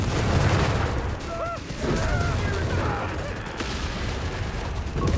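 Heavy Sturmgewehr assault rifle fire rattles through a Company of Heroes 3 battle, dense continuous shooting under a busy mix of other combat noise, with no pauses.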